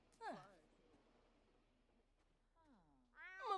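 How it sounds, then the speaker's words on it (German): A shy cat in The Sims 4 meows twice, a short rising-falling meow at the start and a louder, longer one near the end, with quiet game ambience in between. "Jaden ist eine scheue Katze."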